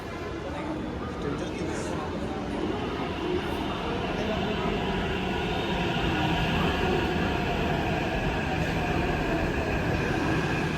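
Continuous rumbling and rushing of a metro train in motion, heard from inside the carriage, with a steady roar and faint rattling throughout.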